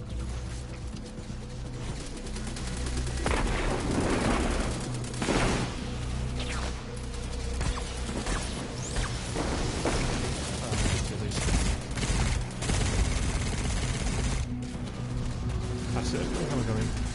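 Gunfire in Destiny 2 is aimed at Vex constructs during a busy fight: repeated sharp shots and booms land irregularly over a dense bed of game noise and music, with a voice talking at times.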